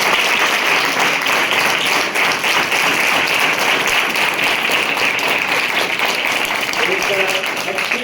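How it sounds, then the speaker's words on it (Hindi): Children applauding at a school morning assembly, a dense, loud, continuous wash of many hands clapping at close range, sustained evenly for several seconds with some voices mixed in. "तो एक बार हाउस के लिए सभी बच्चे तालियां बजाएं।"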